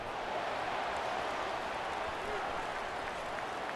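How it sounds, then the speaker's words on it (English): A football stadium crowd roars at a televised Purdue vs. Notre Dame college game as the defense faces third down in the red zone, a loud, steady wash of cheering noise that fills the whole stretch. "And here comes the noise. This crowd is trying to inspire this defense to make a big red zone stop."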